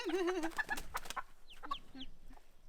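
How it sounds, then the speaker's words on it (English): An escaped chicken clucks nearby in short, scattered calls, fairly quiet outdoors, with a brief voice heard at the start before the clucking continues. "We have a chicken that escaped."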